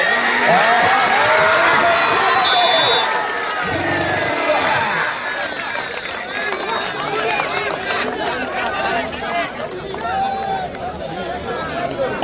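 A crowd cheers and shouts at a kabaddi match in the final of a district tournament. A loud burst of roaring opens the stretch, then eases into ongoing chatter and scattered calls, with people talking nearby.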